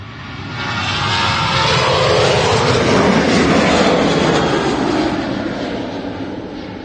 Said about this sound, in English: It's a 737.